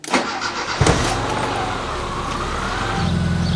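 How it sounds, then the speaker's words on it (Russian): A ZAZ Tavria car engine with a newly replaced muffler turns over and catches, then settles into a steady, low, even idle rumble nearby. "Теперь заведем машину и проверим, как работает глушитель"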